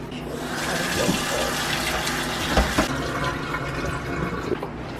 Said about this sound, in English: We're just going to wash this oxtail nice and clean up the excess fat and debris.